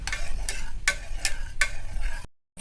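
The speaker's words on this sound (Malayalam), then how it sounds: "പുളി ചേർത്തിട്ട് നന്നായിട്ടൊന്ന് ഇളക്കി കൊടുത്തിട്ട് കുറച്ച് സമയം ഒന്ന് തിളപ്പിക്കും" Parippu theeyal curry with tamarind added is stirred in a pot, giving repeated scraping strokes roughly every half second over a steady simmering sizzle, close and fairly loud, before a brief drop to silence.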